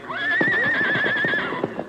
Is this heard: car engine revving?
no